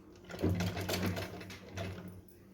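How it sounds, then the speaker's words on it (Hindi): A sewing machine stitches across pleats on a small Laddu Gopal dress, its whirring run steady and close for about two seconds before easing off, with no talking. "हमें इसके ऊपर यहाँ पे सिलाई लगानी है"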